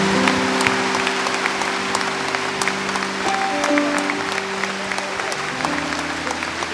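A large audience at a tenth-anniversary celebration in Bucharest applauds loudly and steadily throughout, a dense wash of clapping with a sustained musical tone underneath.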